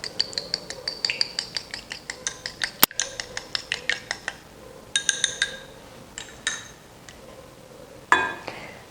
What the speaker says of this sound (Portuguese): 2 ovos, que eu já vou bater ligeiramente para ficar mais fácil de misturar